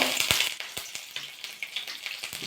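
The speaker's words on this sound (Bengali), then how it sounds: "তেলটা গরম হয়ে গেছে কাঁচা লঙ্কা কুচিয়ে রেখেছিলাম সেটা দিয়ে দেবো" Chopped green chillies crackle and sizzle in hot white oil in a wok, a close, steady frying hiss broken by frequent sharp pops and spits.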